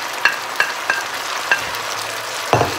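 Ginger sauce with sugar and spring onions stir-fried in a pan, with a soft sizzle and five or six sharp utensil scrapes and clacks at a steady pace, the last one loudest.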